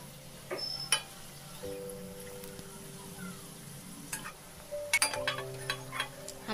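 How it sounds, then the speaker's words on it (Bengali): Potatoes fry in hot oil until crisp and browned, a steady close sizzle broken by scattered sharp pops and ticks, with no talking. "তেল গরম হয়ে এসছে। এরপর আমি আলুগুলো ভাজতে দিচ্ছি।"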